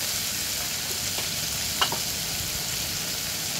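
Spices and vegetables fry in a pan for dalia khichdi, giving a constant soft sizzling hiss with a couple of faint stirring scrapes.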